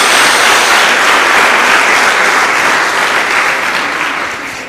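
A church congregation claps hard together for Jesus in a loud, continuous burst of applause that holds steady before gradually tapering off.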